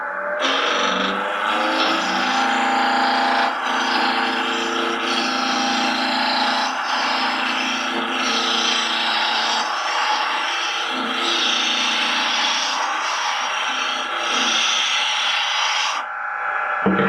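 A wood lathe spins a wooden blank as a tool cuts it round, producing a steady whirring scrape that holds for about sixteen seconds before stopping abruptly, close and fairly loud with no talking.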